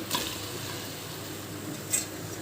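Broad beans dropped into a pan of frying onion and tomato for a Telangana-style sesame curry, giving a steady close sizzle with a soft stir near the start and a brief clatter near the end.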